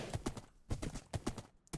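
Horses in a video game trotting, with quick clip-clop hoof beats in a steady rhythmic pattern, faint and fairly close.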